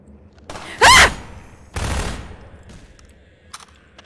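Gunfire in Half-Life 2: two sharp, loud bursts of shots in quick succession, followed by quieter ambient game sound.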